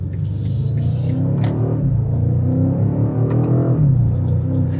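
A 2026 BMW M5 hybrid sedan driven in M2 mode, its engine rumbling loud and close with a deep steady drone that rises and falls as it pulls, no talking over it.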